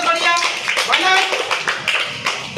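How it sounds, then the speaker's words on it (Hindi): Children in a classroom clap in quick, uneven bursts while a teacher's voice carries over them, close and bright, the claps mixing with chatter and talk. "बजाओ ताली, बहुत बढ़िया।"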